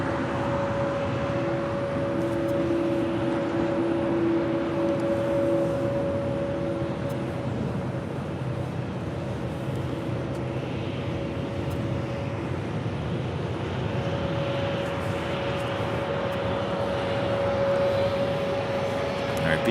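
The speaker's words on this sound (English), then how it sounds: "It's a 787-8 Dreamliner." A Zip Air Boeing 787-8 Dreamliner arrives from Tokyo at Los Angeles LAX, its engines making a steady, moderately distant jet whine and rumble while a voice talks over it.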